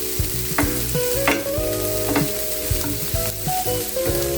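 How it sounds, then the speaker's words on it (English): Drumstick (moringa) leaves and egg being stirred in a frying pan with the stove just turned off, a steady sizzle under repeated scraping strokes of a spoon against the pan, close and fairly loud. "Now I'm gonna turn off my stove and just stir a little bit, not to make it too much cook"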